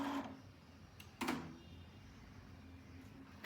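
A Canon G337 inkjet printer goes through its first-time setup, giving soft mechanical whirs and a brief clunk with quiet motor hum in between, heard close and at low volume.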